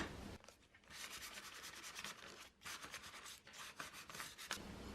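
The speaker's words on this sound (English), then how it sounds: "Then I'm just going to lighten it up just a little bit with some sandpaper." Sandpaper rubbed by hand over painted wood in several close, soft scratchy strokes with short pauses between them.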